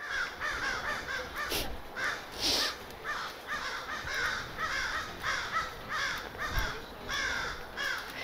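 Several crows caw repeatedly in overlapping bursts, fairly close and loud, with steady outdoor ambience between the calls.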